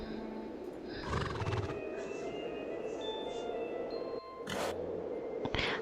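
Horses whinny a couple of times in the video game Star Stable Online over a low mechanical rumble, with brief bursts of clattering noise in between; no talking.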